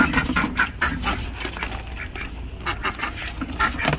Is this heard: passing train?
no